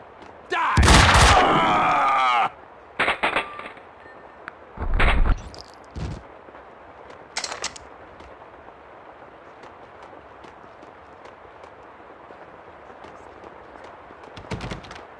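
Gunfire from the PC game Max Payne 2: The Fall of Max Payne, a loud burst of shots up front followed by scattered single bangs and clatter over a quiet ambient bed.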